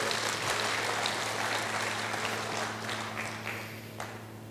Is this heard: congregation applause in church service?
yes